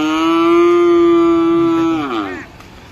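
A cow lowing in a rural village setting, one long, loud, close moo held steady before sliding down in pitch and fading away.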